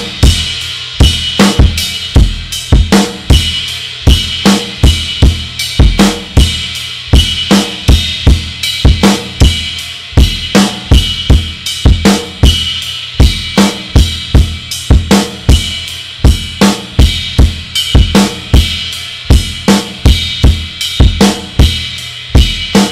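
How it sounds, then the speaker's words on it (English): Drum kit groove with a steady pattern of sharp, evenly spaced hits and bright ride cymbal bell strokes falling on the off-beats, loud and alone throughout. "The next thing we could do now is start throwing in some bells with the ride."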